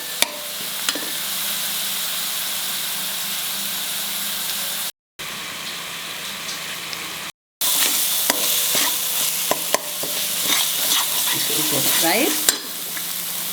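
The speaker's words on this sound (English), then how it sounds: "Fry this nicely till it leaves the side." Sliced bitter gourd (karela) sizzles loudly in a pan over a low flame while being stirred, with scraping spoon strokes through steady frying hiss and a single brief spoken word.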